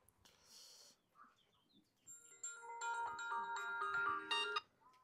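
A phone ringback tone plays, a repeating electronic ring pattern, after a brief breath and rustle at the start.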